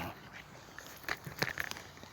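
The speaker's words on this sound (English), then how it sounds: "I got the pugs out here with me" Pugs outdoors make a few short, close snuffling and whimpering bursts in the second half, over a quiet yard with faint background hiss and no talking.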